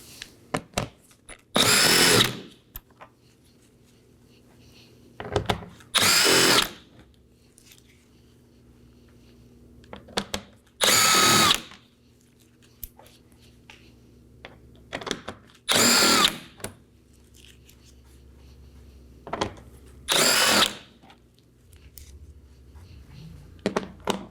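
A power tool whirs in short, loud bursts, about six of them, spaced several seconds apart, as 7mm bolts come out from under the front bumper of a 2018-2024 Chevrolet Equinox. Quiet gaps with faint handling noises fall between the bursts.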